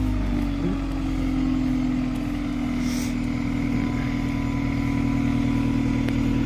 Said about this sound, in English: She revving up her engine.